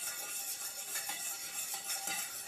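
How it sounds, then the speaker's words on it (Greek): A wire whisk beats vinegar into mustard in a bowl for a vinaigrette, giving a steady, close, fast scratchy rattle with light metallic clinks and no voices. "Παίρνουμε το σειρματάκι, θα ανακατεύουμε αυτά λιγάκι."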